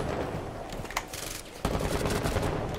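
Rapid bursts of gunfire in the Rainbow Six Siege game, dense and fairly loud, with a sharp new volley starting partway through over a constant busy background.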